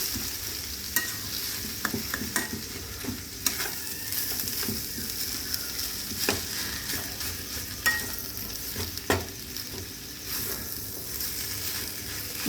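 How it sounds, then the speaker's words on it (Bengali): Fish being stirred into a spice masala in a pan for a Bengali fish chop, a steady sizzle of frying under repeated scraping stirs and occasional sharp utensil knocks against the pan, with no talking. "মশলাটার সঙ্গে ভালোভাবে মিশিয়ে নিতে হবে"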